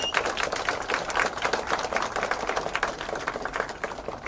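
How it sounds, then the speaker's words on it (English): Audience applause for the chief guest at a political party launch, a dense, steady patter of many hands clapping throughout without pause, fairly close and even in loudness. "Let's give our chief guest a round of applause."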